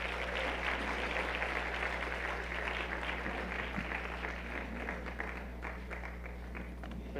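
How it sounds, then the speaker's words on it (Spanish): A church congregation applauds during a sermon, a sustained crowd clapping that fades gradually, set over a constant low electrical hum from the room's sound system. "démosle un fuerte aplauso a Dios"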